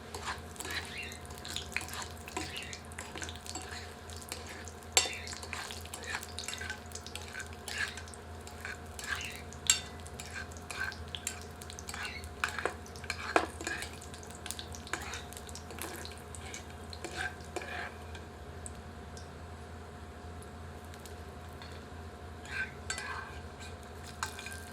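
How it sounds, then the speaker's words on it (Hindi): Cashews frying lightly in oil in a home kitchen while being stirred, giving a steady soft sizzle with frequent small scraping and clinking stirring sounds throughout, no talking. "अब काजुओं को हल्का फ्राई कर लेते हैं।"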